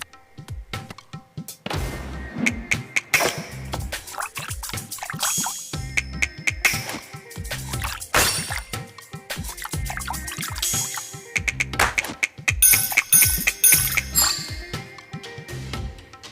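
In the cooking scene of the video game Thirsty Suitors, water is added to a pan: busy, clattering game sound effects with dripping and splashing splats, close and moderately loud, mixed with tonal music-like chimes.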